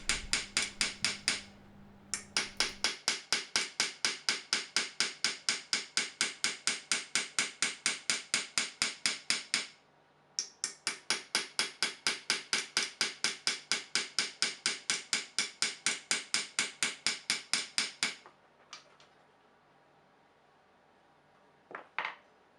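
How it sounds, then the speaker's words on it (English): Copper wire hammered into a carved inlay groove with rapid, even light taps, loud and close, in two long runs of several seconds each separated by a short pause, then a few scattered knocks. "I'm mashing that copper into the recess that we carved"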